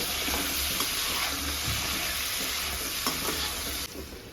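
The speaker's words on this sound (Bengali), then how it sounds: "পটলটা আমি ভাজতে থাকবো" Pointed gourd (potol) pieces seasoned with salt and turmeric fry in a pan with a steady, dense sizzle and soft stirring scrapes, close and continuous, with no talk.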